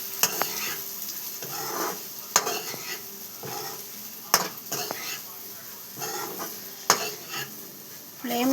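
Spoon stirring masala through bitter gourd frying on a low flame in a pan, with a soft steady sizzle and repeated scraping strokes and clinks against the metal, close and moderately loud.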